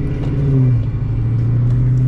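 A Foxbody Mustang with a swapped Coyote engine idles steadily while warming up, a deep, even rumble close by with no one speaking.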